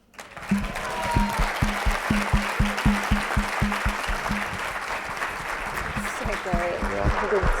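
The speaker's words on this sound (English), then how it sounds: "And a warm round of applause to my incredible mother" An audience at the NORA 2014 event applauds steadily and loudly for a speaker's mother, a sustained wash of clapping with a rhythmic thumping underneath, and brief cheering or voices near the end.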